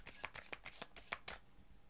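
Oracle cards being shuffled close up, a rapid series of crisp riffling flicks and snaps over about two seconds, alone with no talk.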